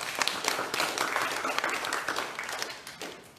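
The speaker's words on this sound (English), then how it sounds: "And praise, yeah, let's clap." A church congregation claps together in steady, dense applause that carries through the whole moment and tapers slightly toward the end, with no clear voices over it.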